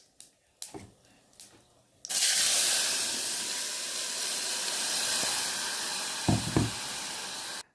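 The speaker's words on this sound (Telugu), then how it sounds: "ఇప్పుడు ఈ జ్యూస్ వేసేద్దాం." Tomato juice hits a hot tempering of dried red chillies, asafoetida and curry leaves for rasam, setting off a loud, sustained hiss and sizzle after a couple of light knocks, with a few clinks near the end.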